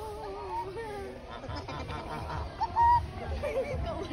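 A goose honks a few times amid soft background voices and other bird calls at a zoo, fairly close and moderately loud.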